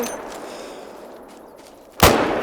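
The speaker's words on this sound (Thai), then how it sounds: "ยิงรัวๆเลยครับตอนนี้อัดไปรัวๆเลย" A rifle fires in the hunting game theHunter: Call of the Wild during an African lion hunt, a single sharp, loud blast near the end after a quieter stretch of ambient game sound.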